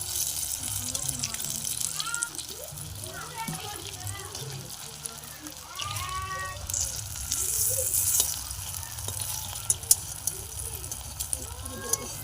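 Food frying in a pan, a steady close hiss and sizzle with occasional crackles, while a person talks over it throughout.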